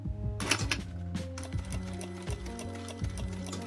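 A sewing machine stitches fabric with a fast, even mechanical clatter, its needle beats repeating in a steady rhythm up close, with no one speaking.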